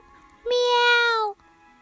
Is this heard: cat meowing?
yes